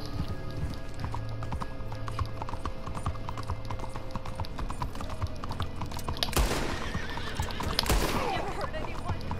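Horse hooves clip-clopping steadily in Red Dead Redemption 2, with whinnies and a burst of gunfire near the end, all over ongoing game ambience.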